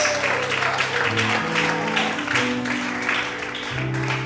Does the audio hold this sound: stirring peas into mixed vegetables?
no